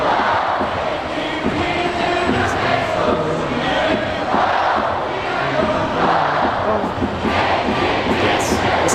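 Stadium crowd at a KBO baseball game in Korea chants a Kia Tigers player cheer song, a dense continuous roar of many voices that stays loud and steady throughout.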